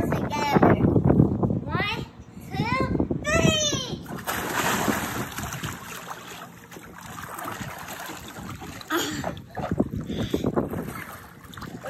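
Water splashes and sloshes up close while children chatter and shout excitedly, with gusts of wind buffeting the microphone.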